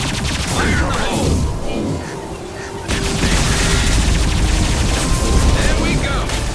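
Grenade explosion in the Mass Effect 2 video game on Tuchanka, a loud sustained blast and rumbling roar that briefly drops and then surges again as a broad, dense wash of noise.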